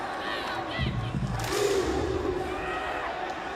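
Rugby league crowd of about 2,400 in a stadium, a rising roar of cheering and shouting that swells in the middle and then settles into a sustained din, with voices mixed in.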